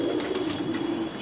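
Pigeons coo steadily and close by inside a crowded pigeon loft in North Badda, Dhaka, a low continuous burbling chorus from many birds.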